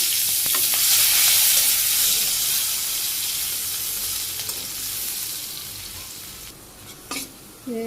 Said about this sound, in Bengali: মাছটা ভাজি করে নামিয়ে নিছি তারপর তেলে আমি জিরা দিয়ে দিছি এখানে পেঁয়াজ দিলাম